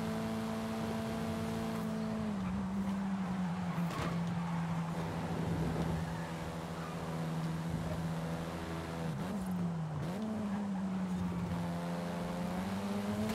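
Racing-car engine in Forza Horizon 5 during a Doge Racing Series event, a steady engine drone that climbs and drops with gear shifts, sometimes joined by the revving of other cars.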